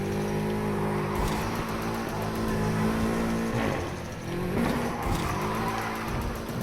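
A Nissan Skyline drifts in a racing video game, its engine roaring steadily while the tires squeal through a long slide, loud and continuous with no voices.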